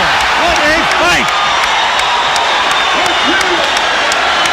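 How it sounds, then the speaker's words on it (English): A boxing arena crowd roars at the close of the Sugar Ray Leonard vs Thomas Hearns rematch, a dense sustained wall of cheering and whistles with scattered shouts, loud and continuous. "The crowd is on its feet."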